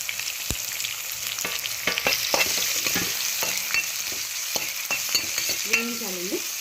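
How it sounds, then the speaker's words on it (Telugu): Onions and green chillies sizzle in oil in a pan for a brinjal and capsicum fry. A constant, close crackle carries scraping stir strokes and light taps, with a squeaky scrape of the spatula at the end. "ఉల్లిపాయలు వేసేసుకుంటే ఉల్లిపాయలు కూడా కొంచెం వేగాక"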